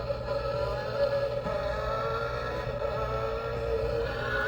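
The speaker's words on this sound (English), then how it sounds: "Makes motor sounds." Large remote-control Cadillac V Series R toy car with Forza Motorsport lights and sound, playing a steady electronic engine-hum effect through a small speaker, continuous and fairly close.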